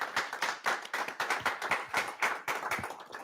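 An audience at a 2020 Cicero Prep school awards ceremony applauds with a fairly small crowd's quick, overlapping claps. The applause has an uneven rhythm and holds a moderate, steady loudness for several seconds.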